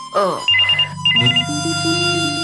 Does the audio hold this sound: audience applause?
no